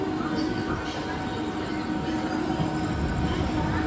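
The 13174 Kanchonjungha Express runs steadily on its Tarapith to Sealdah route, a continuous loud rumble of wheels and carriages rolling along the rails with no break.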